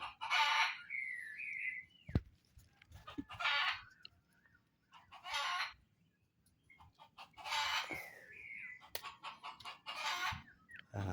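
Junglefowl rooster and hen call in bursts of loud crowing and clucking, with several separate calls spaced apart and quiet gaps between them, close by in an otherwise still outdoor setting.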